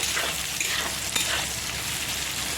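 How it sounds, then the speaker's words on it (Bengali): Pointed gourd fries in oil with a steady, dense sizzle, close and even, with a faint stirring scrape partway through. "পটলটা হালকা একটু ই ভাজছি কম কারণ আরও মশলা দিয়ে আর একবার ভাজা হবে"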